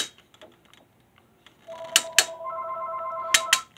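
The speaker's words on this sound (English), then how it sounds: "That's my phone ringing." A mobile phone rings indoors near an exercise bike, two short bursts of electronic ringtone tones repeating after faint clicks and taps.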